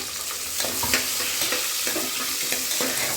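Chopped large onions hit the oil in a pan for hotel-style pulao and fry with a steady close hiss, broken by regular stirring scrapes every half second or so.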